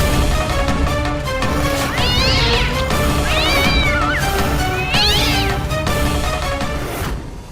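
Cat meowing loudly and repeatedly, three or four drawn-out, wavering cries spaced a second or so apart, set against a busy background.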